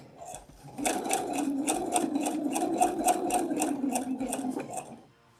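A sewing machine stitches a tea towel, starting after a brief pause with a close, steady run of rapid needle strokes for about four seconds before stopping.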